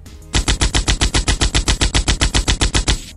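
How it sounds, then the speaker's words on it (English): Rapid, evenly spaced bursts of toy gunfire, about twenty loud shots in three seconds, play alone for a 1:18 scale Joy Toy soldier figure. "See if he can pull off a few rounds."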